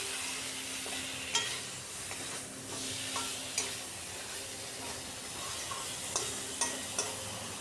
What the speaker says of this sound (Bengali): এবার কিছুক্ষণ কষিয়ে নিচ্ছি খুব ভালো করে।